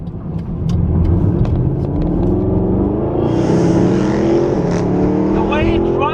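Mercedes-AMG SLS gullwing sports car with its engine running loud and steady, a deep rumble that rises in pitch partway through, with a faint voice underneath.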